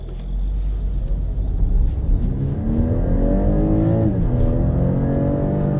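A 2021 BMW X3 xDrive30e plug-in hybrid in sport mode accelerates hard from inside the cabin, its engine note climbing steadily, easing briefly at a shift and then rising again as a loud, continuous rumble without speech.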